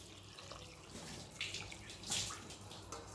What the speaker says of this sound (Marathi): आणि हे पाणी आता कुकरमध्ये घालायचं आहे।